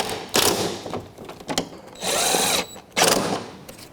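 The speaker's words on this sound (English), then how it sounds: "And then now install the 4 mounting screws." A power drill drives grille mounting screws on a 2006-2012 Toyota RAV4, with three or four short loud whirring bursts separated by brief pauses and soft handling clicks.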